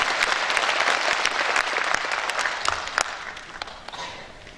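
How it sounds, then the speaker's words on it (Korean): An audience at a lawmaker's legislative report meeting in Jeonju claps warmly, dense steady applause from a large crowd that tapers off near the end. "이분들을 위해서 한번 박수 한번 주세요"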